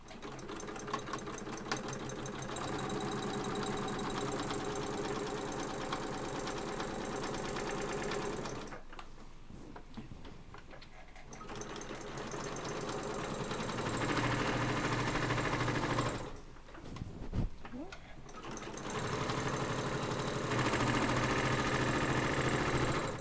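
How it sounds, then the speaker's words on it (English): A sewing machine stitches a cross body bag, running in rapid rhythmic bursts with two pauses between runs, close and steady, including back stitching to lock the seam. "now I'm going to go down the other side. Back stitch to lock it."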